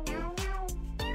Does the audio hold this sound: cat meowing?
yes